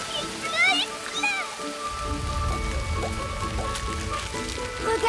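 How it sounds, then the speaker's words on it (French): Steady rain patters down in a cartoon after a brief quiet stretch, with a voice and tonal music playing above it. "Il pleut."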